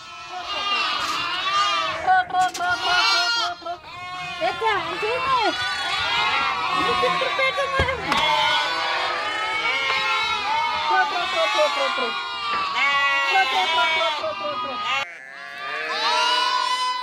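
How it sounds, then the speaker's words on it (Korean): Sheep and goats on a farm on the Siberian plains, newly lambed ewes among them, bleat constantly in a dense overlapping chorus, many animals calling at once from close by with no pauses. "바깥 우리에 있는 양들은 출산한 지 얼마 안 된 어미 양들입니다"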